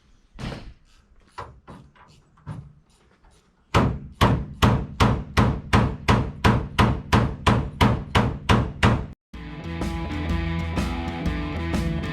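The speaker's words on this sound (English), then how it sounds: "You hit it with the hammer, trying to loosen these up" Sharp metallic hammer blows ring out against metal parts of a school bus during a conversion, first a few irregular strikes, then a fast steady run of about a dozen loud hits, ending in a sustained clanging rumble.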